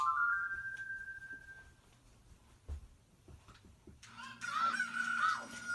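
Chicken clucking in The Legend of Zelda: Ocarina of Time: a sustained electronic tone first, then a sharp clucking squawk near the end among soft game sound effects.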